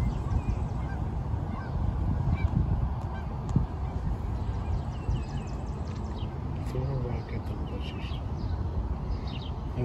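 Geese honking at a lake beach, scattered distant honks over a constant outdoor wash of wind and water, with people talking nearby.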